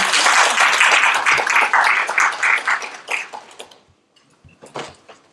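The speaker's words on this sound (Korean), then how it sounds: "다시 한번 큰 박수 부탁드리겠습니다" Audience applause fills a university admissions seminar hall, a dense, loud burst of clapping that thins into scattered claps and fades, with a few late claps near the end.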